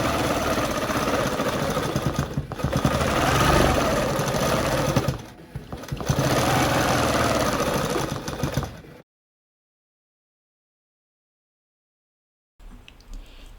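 ProStitcher longarm quilting machine stitching a recorded pattern, a loud, close, rapid mechanical whir that runs steadily with two brief dips, then stops into silence before a short faint return of motor noise.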